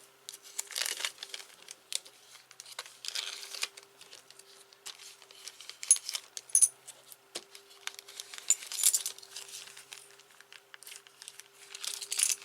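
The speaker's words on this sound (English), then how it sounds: "So I'm just going to stick them in a smaller plastic bag." Small watch parts being tipped into a small plastic bag, with repeated close crinkling and rustling of plastic and faint metallic clicks of tiny pieces, steady handling noise throughout.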